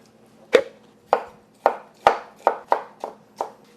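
Knife chopping sweet pickles on a cutting board for homemade Big Mac sauce, eight crisp, distinct knocks at a fairly even pace, close and clear with no talk.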